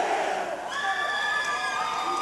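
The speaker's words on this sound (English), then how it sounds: "The Mortal Kombat cheer out for the Wildcats" A crowd in a gym at a 1A district volleyball match, Fleming vs. Caliche, chants the Mortal Kombat cheer for the Wildcats, with loud mixed voices and whistle-like sustained tones at some distance.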